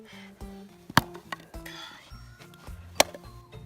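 Hammer striking and breaking something, two sharp ringing impacts about two seconds apart, close and fairly loud, over a busy background of clatter and low tones.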